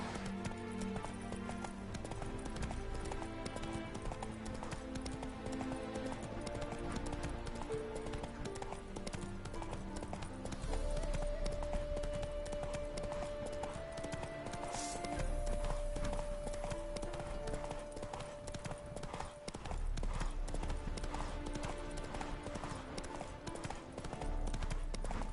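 Horse hooves clip-clop at a gallop in a PS4 video game, a steady rapid drumming that runs continuously under game music and effects, fairly quiet in the mix.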